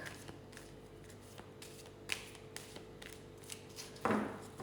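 Tarot cards shuffled by hand for a reading, giving soft, faint riffling and rubbing with a few sharper flicks and a louder burst of card noise near the end.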